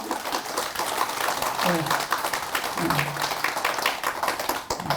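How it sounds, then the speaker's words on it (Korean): Audience at a Buddhist temple dharma assembly clapping steadily for the chairpersons, with a voice talking over the applause. "우리 저기 정각 회장님한테도 박수"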